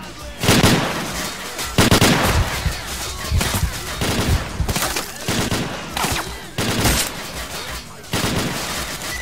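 Machine gun fire from a nest on a building balcony during a street battle in STALKER Clear Sky, with loud rattling bursts at irregular intervals, heavy booming reports and echoing gunfire between them.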